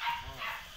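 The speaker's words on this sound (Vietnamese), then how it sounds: "con chó" A dog gives a short, faint bark or yip that falls off quickly, with low background noise and no clear talking.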